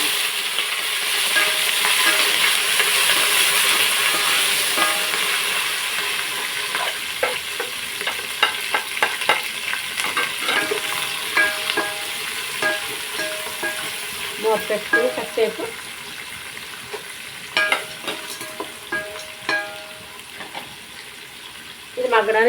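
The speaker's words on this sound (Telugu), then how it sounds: "ఇప్పుడు మనం ఉల్లిపాయలు పచ్చిమిరకాయలు టమాటా కరివేపాకు కూడా వేసేస్తాం" Onions, green chillies, tomato and curry leaves frying in a pan, a loud initial sizzle that settles into softer crackle with frequent clinking, scraping stirs of a spoon against the pan, heard close and without speech.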